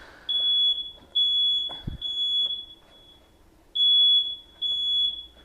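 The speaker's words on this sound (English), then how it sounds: "Once again, we got the fire alarm going off." A kitchen smoke alarm going off in loud, piercing high beeps, sounding in several bursts with short gaps between them. There is no speech over the alarm.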